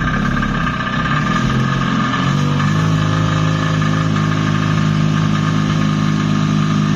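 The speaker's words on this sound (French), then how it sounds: "la voiture fait quand même du bruit" Dué Initial microcar engine running close by, a steady buzzing drone that stays loud and even throughout.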